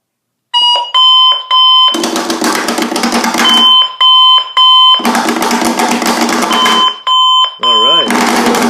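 Sonic Bomb alarm clock going off loudly: rapid bursts of high piercing beeps alternating with harsh buzzing blasts, repeating in a pulsing pattern throughout, close and very loud.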